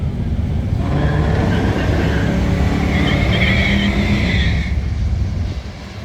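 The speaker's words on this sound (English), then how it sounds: "our buddies Austin and Travis raced each other for fun" Two cars, including a turbo Cutlass wagon, race each other on a hot day at a drag event, engines roaring loud and sustained with a rising whine and faint tire squeal, no voices.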